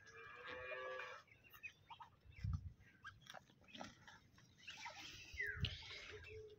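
Ducks eating leafy plant shoots handed to them one at a time, with quick close pecking and bill-snapping bursts amid faint background clucking of fowl.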